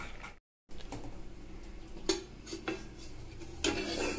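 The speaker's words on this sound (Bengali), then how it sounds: "আমি এবার চাপা দিয়ে দেব।" Metal lid and pot clatter as a pot of dal is covered, with a few sharp clanks and scrapes of cookware spaced across a quiet kitchen background.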